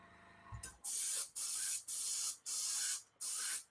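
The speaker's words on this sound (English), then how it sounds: "So this is just a brown airbrush paint." An airbrush sprays brown paint in five short hissing bursts separated by brief pauses, close and crisp, with nothing else audible around them.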